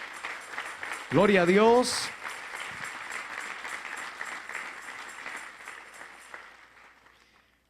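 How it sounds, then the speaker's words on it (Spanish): A church congregation applauding, a broad wash of clapping that swells under a preacher's loud exclamation and then slowly fades away. "denle un fuerte aplauso al Señor"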